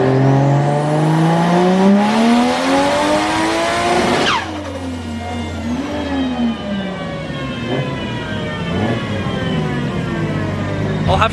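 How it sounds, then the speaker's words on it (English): A Toyota 1JZ-powered car on a dyno pulls hard to redline, its loud engine note rising steadily for about four seconds, then dropping to a burbling idle with lingering mechanical whine. "Darren is going to do a pull out to redline"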